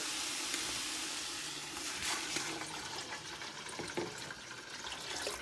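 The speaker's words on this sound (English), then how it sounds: "And then we'll add some water." Tap water runs into a cooking pot for hamburger soup, a continuous rushing, splashing stream that holds steady throughout at a moderate, close level.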